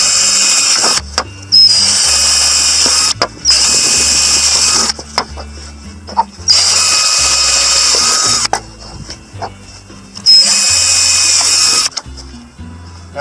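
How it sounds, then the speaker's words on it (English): A power drill whines in several loud bursts with short pauses between, biting through thin corrugated metal sheet close by. "I can drill right through nice and easy"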